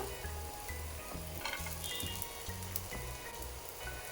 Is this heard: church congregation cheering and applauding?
no